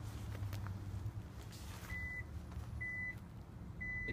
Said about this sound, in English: It's beeping, telling me it's going to open if I don't move.